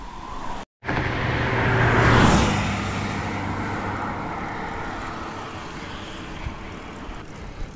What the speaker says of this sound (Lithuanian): eismas intensyvėja